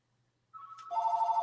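A phone rings alone after half a second of near silence, its electronic ringtone starting as a steady tone, then getting louder and fuller with a bright repeating trill.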